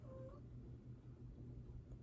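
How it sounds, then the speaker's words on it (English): A cat gives one short meow near the start, faint and fairly close, followed by a quiet low room hum. "I don't know which cat that was"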